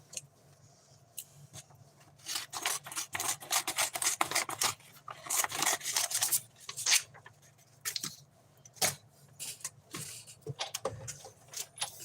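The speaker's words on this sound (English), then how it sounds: "I'm going to cut a little bit off of this." Scissors cut a piece off a paper card, giving a close run of crisp, rapid snips and rustles that come in uneven bursts with short pauses, and quieter paper handling sounds between them.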